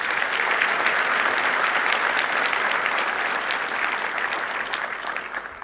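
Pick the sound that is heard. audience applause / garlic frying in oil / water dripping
audience applause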